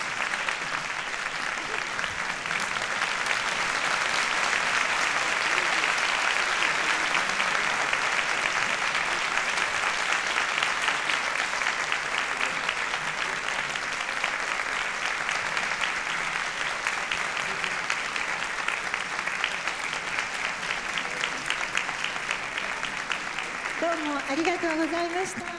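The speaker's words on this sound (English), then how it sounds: "Please show appreciation to the panelists in the usual fashion" Sustained, steady audience applause for the panelists at a peace foundation forum on generosity, an even wash of many hands clapping for over twenty seconds without letting up.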